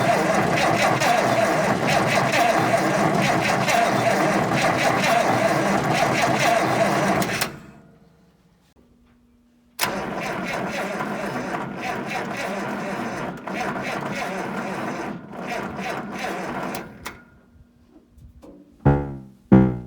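An old abandoned Massey Ferguson 1100 tractor engine chugs steadily and loudly, cuts out abruptly, then restarts and runs again before sputtering with a few sharp knocks near the end.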